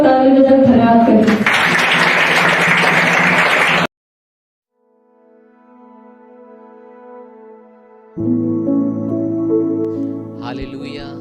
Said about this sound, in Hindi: इसीलिए परमेश्वर का ताली बजाकर धन्यवाद करें।